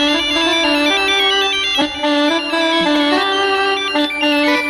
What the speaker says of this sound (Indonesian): handphonenya bunyi tuh